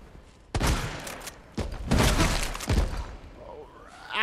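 Shotgun blasts in the Resident Evil 2 video game, several loud booming shots with crashing impacts spaced across the moment, followed by a brief high whine at the end.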